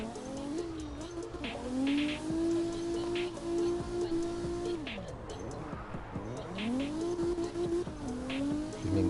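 A tuned drift car in the CarX Drift Racing video game revs in long rising and falling engine whines, sustained and fairly loud, with tire noise and brief dips between throttle pulls.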